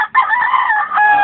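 A fighting rooster crows loudly and close by in one strained, sustained call lasting just over a second.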